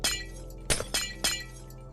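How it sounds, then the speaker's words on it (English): Glass breaking in the Suroi online game, three sharp shattering crashes with tinkling debris, spaced close together over a steady low background hum. "Let's just break some glass here."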